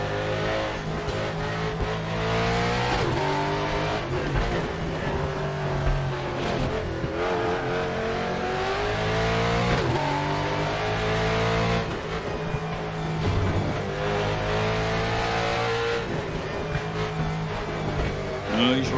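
A race car engine screams at high revs in a racing game, its pitch climbing and dropping through gear changes and throttle lifts, loud and continuous throughout with no pauses.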